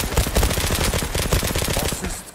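Rapid automatic gunfire in a multiplayer shooter game, with dense, loud bursts of shots rattling continuously and close up for a couple of seconds.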